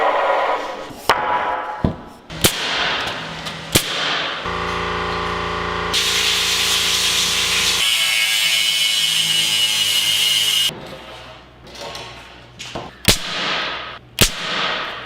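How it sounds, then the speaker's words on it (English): A hammer shot drives nails into solid concrete, giving sharp, loud single cracks spaced apart, broken up by a long stretch of steady hissing and whirring workshop noise in the middle. "how we are nailing into solid concrete, and that's with something called a hammer shot"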